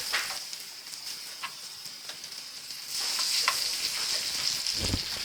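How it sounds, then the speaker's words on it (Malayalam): Brinjal pieces shallow-fry in oil with a steady, close hiss and fine spattering crackle, louder in the second half, with occasional soft knocks as pieces are turned in the pan. "ഒന്ന് ഷാലോ ഫ്രൈ ചെയ്താൽ മതി"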